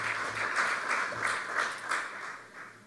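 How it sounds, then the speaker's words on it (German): Audience at a Baader Bank AG shareholders' meeting in 2017 gives sustained applause, a moderately loud wash of clapping in a large hall that pulses slightly and tapers off toward the end. "da bitte ich um einen kräftigen Applaus"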